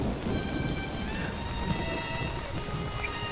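Steady rain falls on a rooftop in an animated series episode, a dense continuous patter with low rumbling underneath and faint sustained musical tones above.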